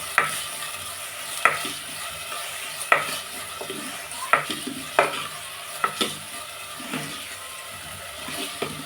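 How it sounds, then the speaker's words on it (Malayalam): A spoon stirs ingredients through oil in a pan, giving a run of sharp, regular scraping knocks roughly every second over a soft frying sizzle. "ഈ എണ്ണ ഇതിലേക്ക് ഒന്ന് ആവാൻ വേണ്ടിയിട്ട് നന്നായിട്ടൊന്ന് ഇളക്കി യോജിപ്പിക്കുക"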